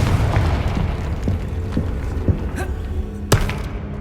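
Confringo blasting spell explosions in Hogwarts Legacy, a few sharp booms and thuds bursting over a dense, rumbling game soundscape, with the loudest hit landing late.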